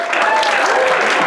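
An improv comedy audience breaks into loud, dense clapping. The brief burst stays close and full throughout, with a few voices mixed in.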